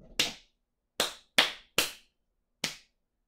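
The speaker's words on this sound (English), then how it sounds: "So I'll clap that rhythm once again." Five sharp hand claps spaced unevenly to tap out a rhythm taken from Bach, each crisp and close with quick decay and silence between, performed alone without speech.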